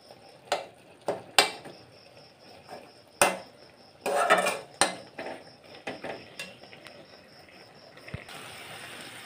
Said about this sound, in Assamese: এতিয়া কচুখিনি আদা নহৰু দি পেলাই অলপ সময় ভাজিলোঁ